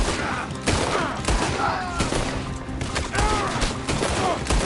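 Rapid bursts of gunfire from a Red Dead Redemption 2 shootout, with repeated loud shots and thuds crackling across several seconds in dense volleys, no talk over them.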